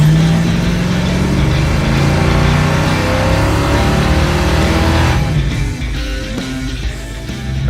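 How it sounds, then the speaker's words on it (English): A custom car engine runs loudly and steadily, with a rough, raspy exhaust rumble from an exhaust leak; the sound drops somewhat near the end. "Has a little bit of an exhaust leak."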